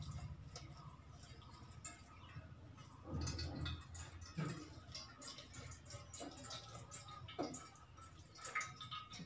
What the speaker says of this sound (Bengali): উপর থেকে এইভাবে জল ঢেলে আমি চিড়েটাকে ধুয়ে নিলাম